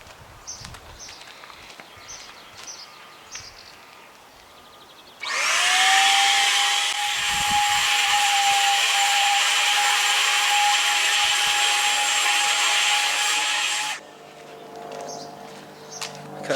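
Tilswall Shark 600 budget electric paint sprayer coating a gate outdoors: a loud, steady motor whine and hiss that starts abruptly, runs for about nine seconds and then cuts off, with quieter background sounds before and after.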